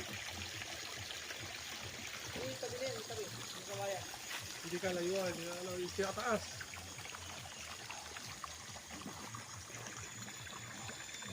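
Clear spring water runs steadily on a bamboo-lined farm lot in Real, Quezon, a faint continuous trickle and pour heard close by while someone speaks over it.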